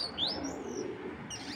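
Racing pigeon chicks give a few thin, faint chirps and a soft coo, brief and close, over quiet background hiss.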